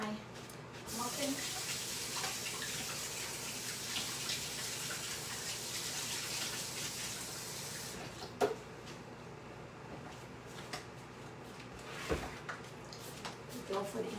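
A kitchen tap runs steadily while hands are washed between stretch-and-fold rounds of sourdough muffin dough, the broad water rush strongest in the first half, then easing into softer splashing with a couple of sharp knocks.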